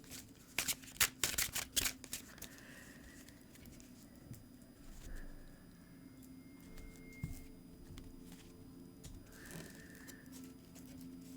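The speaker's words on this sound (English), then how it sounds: "now I'm gonna shuffle." Tarot cards are riffled and shuffled in quick, crisp bursts up close, followed by softer intermittent handling and rustling.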